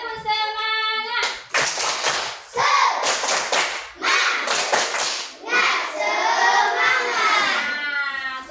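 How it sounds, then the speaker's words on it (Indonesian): A classroom of children performs a rhythmic spirit clap, bursts of sharp hand claps in a patterned beat mixed with chanted voices, loud and close, alternating with sung or shouted calls between clapping phrases. "Tepuk semangat."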